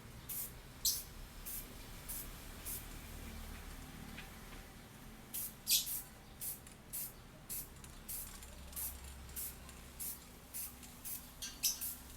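Short bursts of spray paint applied in light dusting passes to the headlight brows of a 2018 Toyota Fortuner SUV, about a dozen hissing puffs at irregular intervals over a low steady background hum.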